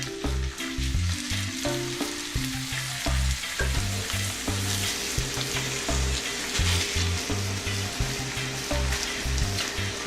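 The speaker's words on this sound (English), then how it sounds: "Add the chicken pieces to the butter" Chicken pieces fry in melted butter in a pan over medium-high heat, a loud, steady sizzle and crackle that runs throughout under background music.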